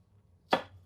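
A single sharp chop of a big kitchen knife through red chilli on a cutting board, one close, crisp knock in otherwise quiet surroundings.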